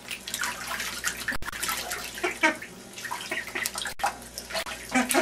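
Four ducks splash and paddle in bath water in a tub, giving steady close sloshing and dripping with frequent small splashes throughout.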